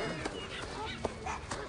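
Small dog in a Japanese story game, a few short yips and whimpers over a busy musical background, fairly close, with no talking.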